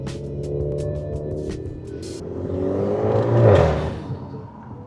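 Turbocharged Kia engine with methanol injection spraying past 12 pounds of boost revs up, its whirring note climbing and swelling to a peak before easing off, with light clatter at the start.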